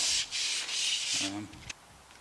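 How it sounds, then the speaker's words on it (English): Light hand sanding on a Vortec 4.3 engine's head gasket surface makes soft, rhythmic scratchy strokes, four quick back-and-forth passes, followed by a brief low rustle and a small knock. "Keep this as flat against this as possible. And just lightly sand it."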